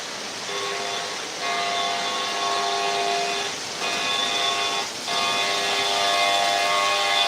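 Model trains running on a layout in the morning, giving a steady mechanical hum with sustained whistle-like tones that rise and fall, pausing briefly twice, moderately loud and close.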